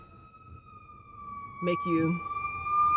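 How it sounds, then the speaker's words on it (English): Emergency vehicle sirens from a fire truck and an ambulance, a steady wail holding through the clip and growing louder near the end, heard under a conversation. "Fire truck's coming. Ambulance coming."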